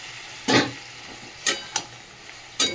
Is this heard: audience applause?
no